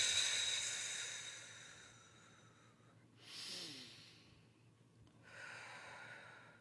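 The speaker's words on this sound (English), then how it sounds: "So let's take a couple of nice deep breaths." Slow, deep breaths during a guided meditation, a long hissing exhale followed by two softer airy inhales and exhales, close and calm with no talking.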